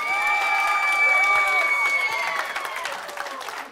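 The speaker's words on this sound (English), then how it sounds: "Let's hear it with a big round of applause for all of the teams competing today." A crowd at a FIRST Tech Challenge robotics qualifier claps and cheers loudly, with whoops and shouts rising over sustained applause that gradually fades toward the end.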